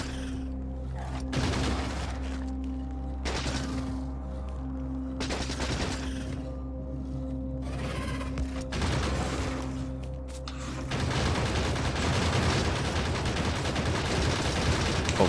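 Gun turrets firing in the factory game Factorio, with repeated bursts of rapid automatic fire over a droning machinery hum, building into denser continuous shooting toward the end.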